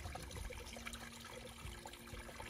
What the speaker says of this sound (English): there's a nice little pipe spring up here